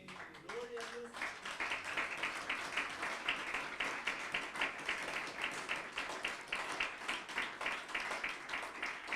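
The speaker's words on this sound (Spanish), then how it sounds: "Un aplauso al Señor" A church congregation claps for the Lord during a sermon, a rhythmic, fairly even pattern of many hands beating together in unison, soft and slightly distant, with a short voice near the start.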